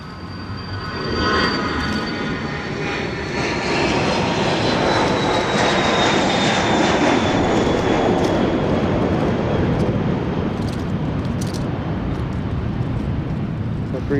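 Loud airplane engine roar at Dallas Love Field on a rainy day, reverberating through a concrete parking garage, a steady broad rumble with a whining tone sliding downward, sustained for the whole stretch.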